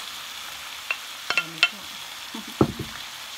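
Chicken pieces added to a pan for chicken pork adobo cooked in coconut milk, a faint sizzle beneath a few sharp clinks and utensil knocks, with a brief spoken phrase.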